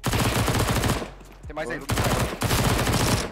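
Rapid automatic gunfire in a competitive CS:GO match, dense bursts of shots that stop briefly while a player speaks, then resume just as loud and relentless.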